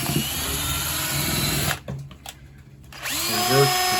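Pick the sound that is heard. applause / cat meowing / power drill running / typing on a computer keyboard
power drill running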